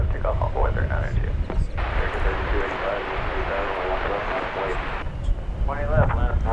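An airliner takes off from DFW Airport, its broad jet roar swelling loud and steady for a few seconds before cutting back, with people talking over it at the start and end.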